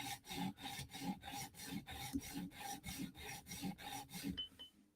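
A knife tip is rasped against a sharpening stone in steady back-and-forth strokes, about a dozen evenly spaced passes, close and fairly loud, with no talking.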